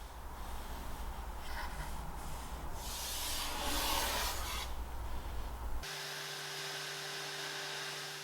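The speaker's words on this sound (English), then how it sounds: "as I strip back all the old finishes" Scraping and rubbing on a vintage 1960s mid-century modern walnut credenza as old finish is stripped, a steady rasping texture that swells in the middle, then cuts abruptly to a low hum.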